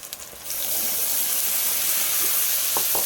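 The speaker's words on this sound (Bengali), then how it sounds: "মশলাটা আমি ভালো করে কষিয়ে নেবো" A spice paste for a red chicken curry sizzles and fries in a pan after a few clinks of stirring, a loud steady hiss that fills the whole stretch, with two brief clatters near the end.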